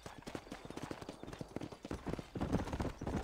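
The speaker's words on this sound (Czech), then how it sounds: "Neběží mi kůň?" Horse hooves clip-clopping at a steady walking rhythm in the Western video game Red Dead Redemption, soft and continuous, picking up slightly toward the end.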